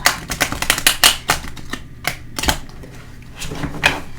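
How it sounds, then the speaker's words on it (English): Rapid bursts of riffling from a small tarot deck, several quick shuffles in a row, close and crisp, then a pause before one more brief riffle. "I'm going to try to shuffle."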